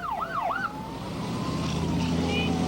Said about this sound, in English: The ambulances roared away.